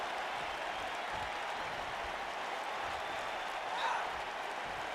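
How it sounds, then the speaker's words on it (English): Arena crowd in the WWE 2K19 wrestling game cheering for the champion, a steady wash of broad noise with applause-like texture and a brief swell near the end, no talk over it. "The crowd is behind their champion."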